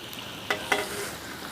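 Green chilies and curry leaves sauté in a hot pan, giving a soft continuous sizzle broken by two quick stirring scrapes close by.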